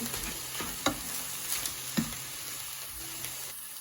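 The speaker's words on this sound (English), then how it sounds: "So let's give that a little mix in." Frozen peppers sizzle in a pan as a utensil stirs them, giving a steady frying hiss with a few scraping knocks from the stirring.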